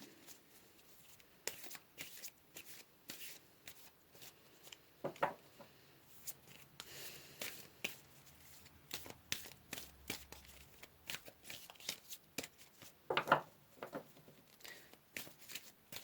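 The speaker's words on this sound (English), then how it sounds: "Let's pull another card here." Tarot cards being shuffled and drawn by hand, with soft irregular riffling, slides and sharp snaps of card stock close by, in quiet bursts separated by short pauses.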